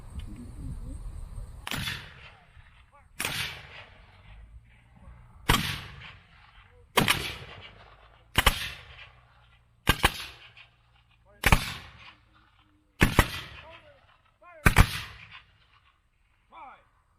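Black-powder musket volleys at the 2019 Gettysburg battle reenactment, about nine loud, booming discharges spaced a couple of seconds apart, each a sharp crack with a ragged rolling tail, with shouted commands between shots.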